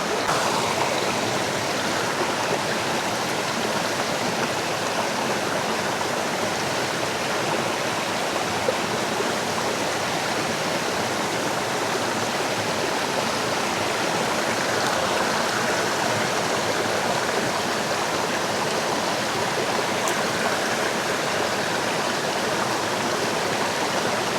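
A river flows steadily and continuously, its broad rushing wash close and constant throughout with no voices, at a Jamaican bush cooking spot where callaloo is prepared.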